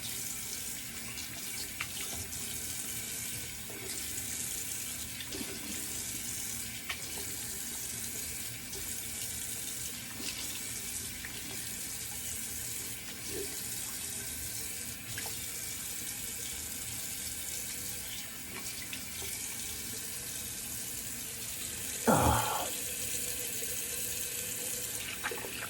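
Water runs steadily from a tap into a sink during cleanup after wet shaving, a continuous close splashing flow with one brief louder splash near the end, no talking.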